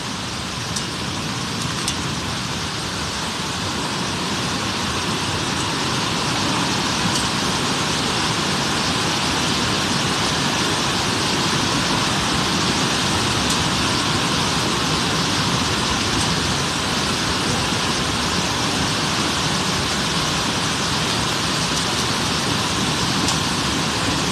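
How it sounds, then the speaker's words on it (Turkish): Heavy hail pelts down during a storm in Suruç, Şanlıurfa, a dense, steady drumming roar that runs unbroken and loud throughout, close by, with no voices over it. "dolu yağışı mevcut gösterebilirim."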